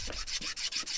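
A hoof knife for horse hoof trimming being sharpened along its pre-made bevel, giving quick, rhythmic rasping strokes, about five in a second, close and fairly quiet.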